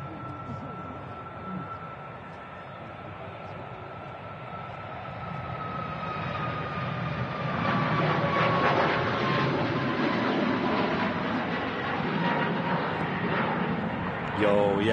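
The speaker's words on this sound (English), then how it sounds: "757 here on main cam, taxiing out" A Boeing 757 airliner taxis at Manchester Airport, heard as a steady jet engine roar with a high whine, rising gradually in loudness as it moves closer, with no voices over it.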